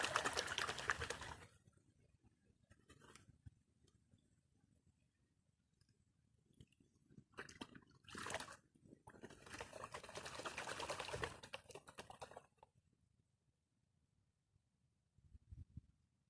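Gold concentrates from crevice material being panned in water, with intermittent bursts of sloshing and swirling separated by quiet pauses, close and fairly soft.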